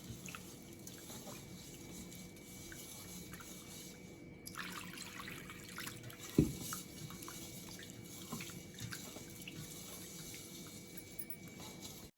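Fish pieces being washed in water, with a faint, quiet trickle and soft splashing and one brief clink near the middle, heard alone without talk.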